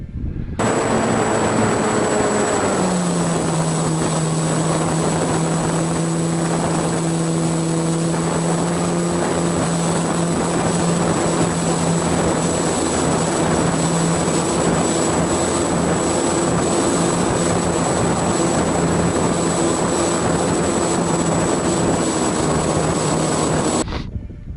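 An E-Flite Apprentice 15e electric model airplane buzzes steadily on approach to land, its motor tone dropping early and then holding an even, loud drone with wind noise for the whole stretch.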